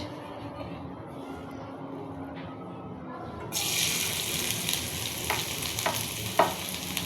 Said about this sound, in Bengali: এখন দিয়ে দিব সরিষার তেল। বেশ মনে হচ্ছে ঠিক আছে, না বেশি হয়ে গেছে। দিয়ে দিব পেঁয়াজ